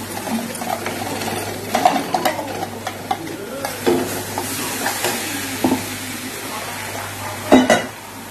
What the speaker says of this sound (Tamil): மசாலா நல்லா வதக்கிட்டு வாசனை போற அளவுக்கு நான் வதக்கிட்டேன்